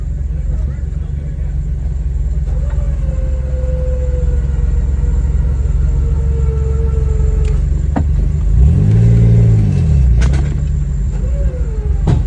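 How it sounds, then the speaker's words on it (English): Off-road 4x4 vehicle engine idling and revving in reverse during a trail recovery, a steady low drone that swells briefly in a rising-and-falling rev before settling, with voices talking faintly over it. "tell them to put it in reverse, but to just put it, to not spin it"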